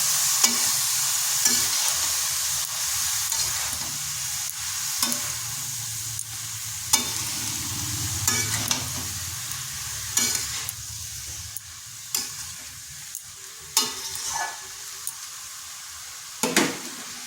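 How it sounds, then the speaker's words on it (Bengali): Chopped cabbage is stir-fried with spices in a pan, giving a steady sizzle broken by regular clacks and scrapes of a spoon stirring against the metal. "দিচ্ছি কেটে রাখা বাঁধাকপিটা। এবার ভালো করে মশলার সাথে মিশিয়ে নিচ্ছি।"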